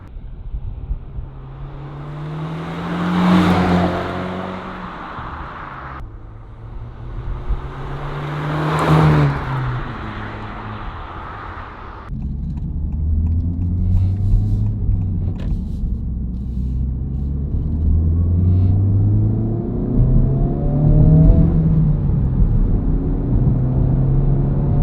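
A Honda Civic Type R FL5 fitted with a Spoon Sports N1 dual-tip exhaust, giving a deep exhaust note as it sweeps past twice, then a sustained rumble of the engine pulling hard under load.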